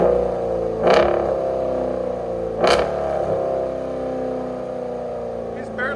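A 2020 Jeep Grand Cherokee SRT with a 6.4L HEMI V8 and Borla Atak cat-back exhaust idles with a deep steady rumble, then two sharp brief revs rise and fall back, close and loud.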